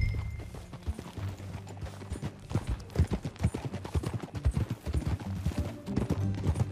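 Horse hooves clip-clop at a steady trotting rhythm in Red Dead Redemption 2, moderately loud and continuous, with a low hum underneath.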